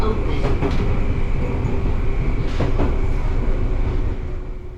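Fujikyu Railway commuter train running between stations, a loud continuous rumble and rattle of the rail car from onboard, with brief clatters over the track joints and the noise easing slightly near the end.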